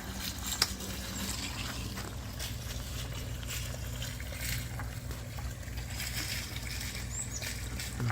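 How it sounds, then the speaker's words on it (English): Small pump pushing water through a copper and PVC wort chiller, a steady low hum with faint trickling and gurgling of water, quiet and continuous throughout. "Pump on."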